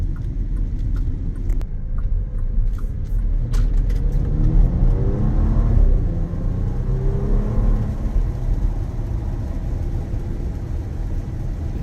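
Bentley Bentayga W12 SUV on the move, a steady low cabin rumble of engine and road noise that swells as it accelerates and then settles into a smooth cruise, with no talk.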